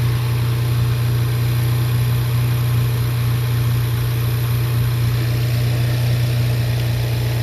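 An engine on its first fire-up with a TunePlus NX2 tune settles into a steady, even idle with a strong low hum and constant vibration, close by and without talk.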